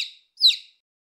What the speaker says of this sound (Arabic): صوصاً